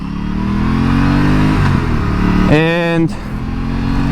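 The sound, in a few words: RS 457 motorcycle engine while riding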